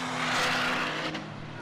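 GT race cars, a Lotus leading a Porsche, roar past on the Brands Hatch Indy circuit, a loud engine sweep that peaks and fades over a second and a half.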